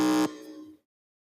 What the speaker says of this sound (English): can I please hear the buzzers once again?